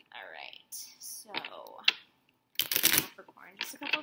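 Tarot cards being shuffled by hand in a quiet room, giving soft riffling and flicking bursts, the loudest run near the end, with someone talking over parts of it.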